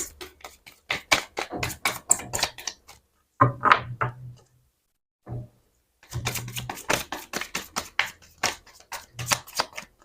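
Tarot cards drawn and laid out on a table during a reading, crisp rapid flicks and taps in quick clusters, with a pause in the middle, close and clear.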